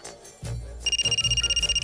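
A telephone rings in a TV drama scene, a bright electronic trill of rapid repeated pulses starting partway through, preceded by a few low knocks and shuffling.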